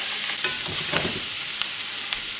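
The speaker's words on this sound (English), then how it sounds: "Get a handful of chopped garlic, put that in there, and a big pile of yellow onions." Chopped garlic and yellow onions fry in melted butter, a loud, close, continuous sizzle with occasional stirring clicks and pops, no voices.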